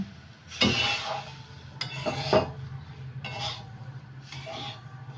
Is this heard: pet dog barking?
no